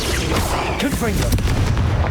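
Confringo blasting spell explosions from a Hogwarts Legacy battle hit as dense, loud, low booms over a constant rumble, with voices mixed into the din.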